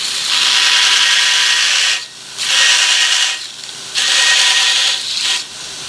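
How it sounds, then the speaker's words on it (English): Belt grinder with a heavy belt removing metal from knife handle parts, loud gritty grinding in three long bursts separated by brief pauses as the piece is lifted off, no voices. "I'm going to put the heavy belt back on the grinder for that because I need mass material removal now"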